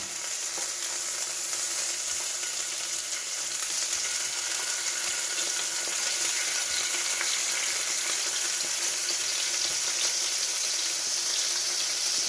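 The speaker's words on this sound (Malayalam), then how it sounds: "നമ്മുടെ അയില അയിലത്തല വറക്കാൻ പോവുക കേട്ടാ അപ്പൊ നമ്മളിവിടെ എണ്ണ ഒഴിക്കുന്നു" Mackerel heads fry in hot oil with a steady, close, crackling sizzle that holds evenly throughout, with no voices.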